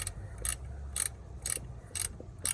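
A ratchet wrench tightening a bolt during alternator replacement on a Ford F350 6.4 turbo diesel, with regular clicking strokes about every half second, close and crisp, no speech.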